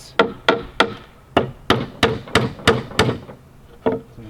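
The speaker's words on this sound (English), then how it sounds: "Plywood's 3/8, so I've got to drive the nail in at 3/16, so I hit this center core." A hammer drives a nail into 3/8-inch plywood while a bee swarm bait hive is being built, with about ten loud, close wooden blows in a steady rhythm and a short pause before the final strike.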